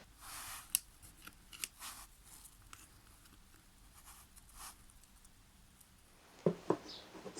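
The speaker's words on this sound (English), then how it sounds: "and I can cut it with the scissors" Scissors snipping wooden coffee stirrer sticks, a few quiet separate crisp cuts scattered over a hushed room, with a sharper pair of snips near the end.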